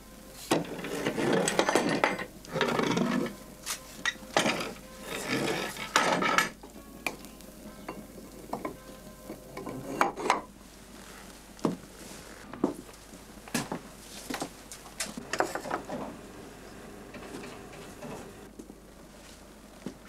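Wooden treadle holders being loosened and set aside from an old farmhouse linen loom: clustered knocks, scrapes and clatters of wood, loud in bursts during the first seven seconds, then sparser, fainter taps and rattles with quiet gaps.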